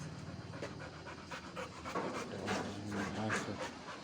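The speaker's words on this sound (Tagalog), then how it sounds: "Aso." A two-year-old dog pants close by in quick, rhythmic breaths, with a faint whimper mixed in.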